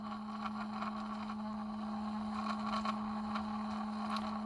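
A homemade maglev generator spins at roughly 12,700 RPM, giving a steady, loud, even hum with a strong fixed tone and a whirring overlay that holds constant throughout.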